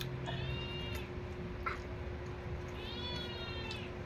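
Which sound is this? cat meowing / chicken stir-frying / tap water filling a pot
cat meowing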